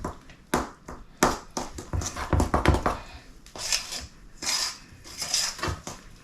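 An apple upside-down cake batter being mixed by hand in a bowl, with irregular clinks, taps and scrapes of the utensil against the bowl rising and falling in uneven bursts up close.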